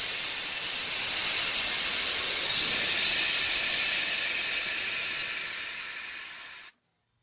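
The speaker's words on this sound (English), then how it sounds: "and air just comes out of the back of that valve." A valve on a budget air ride suspension for street and track use vents air in one long, loud, steady hiss that fades slightly before cutting off abruptly, with no talking.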